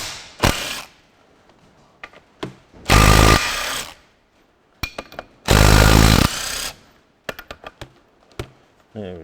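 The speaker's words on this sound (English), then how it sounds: "we'll get our trusty nut gun going again" A pneumatic nut gun undoes tight nuts on a Ferguson TE20 tractor hydraulic pump: two long, loud, close rattling bursts, with scattered clicks and clunks of sockets and tools in between.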